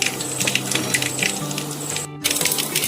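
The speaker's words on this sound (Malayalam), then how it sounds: "കടുക് ഉതിരി ഒന്ന് പൊട്ടി" Mustard seeds and fenugreek crackle and pop in hot oil in a pan while a Kerala-style river fish curry is being made, with rapid irregular close ticking and spitting and a brief dropout near the end.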